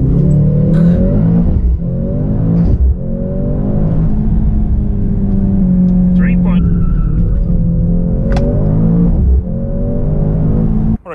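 A 2024 Mercedes-AMG C63 S E-Performance hybrid pulls away with a loud, close engine note that rises and falls as it accelerates, while a voice talks over it.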